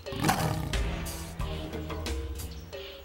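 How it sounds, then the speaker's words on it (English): A Siberian tiger gives a series of deep, rumbling roars and growls at close range. The roars come in several bursts with short gaps between them. "there's a big cat right behind you a Siberian tiger"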